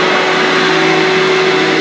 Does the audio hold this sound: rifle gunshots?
no